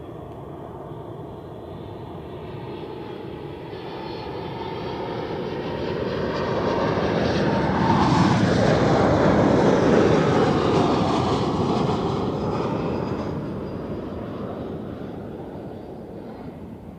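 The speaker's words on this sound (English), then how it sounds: "we have the next landing, Sun Express with the 737 MAX 8 from Izmir" SunExpress Boeing 737 MAX 8 landing at Zurich Airport, its jet roar swelling from a distance, peaking loudly overhead midway, then fading away.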